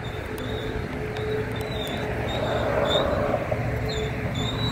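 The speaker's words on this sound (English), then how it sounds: "there's another train coming" A freight train rumbles steadily past on the tracks in Rantoul, Illinois, with a continuous low roar, metallic clatter and faint high squeals from the wheels.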